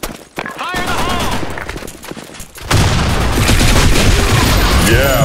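A grenade explodes amid bursts of gunfire in the BlackShot first-person shooter game: sharp shots, then a loud blast followed by sustained heavy firing and booming, close and dense.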